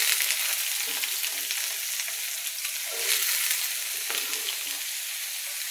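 Chopped cabbage hits a pan of fried onions and sizzles steadily throughout, with a few soft stirring scrapes rising briefly above the constant close frying hiss.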